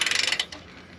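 Socket ratchet tightening exhaust bolts on a 1968 Ford Thunderbird with a 429 Thunderjet big block, a rapid close run of about ten crisp metallic clicks, then a brief fading rattle.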